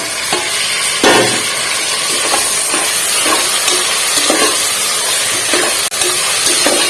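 Tomatoes fry in a pan with peas for masala rice, giving a loud, steady sizzle and hiss with a few scrapes of stirring and no voices.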